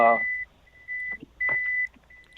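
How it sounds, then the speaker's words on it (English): A steady series of high electronic beeps, evenly spaced, like a vehicle backing up nearby, with a brief bit of talk at the start. "Sorry for that beeping. I just had it back up there for a second."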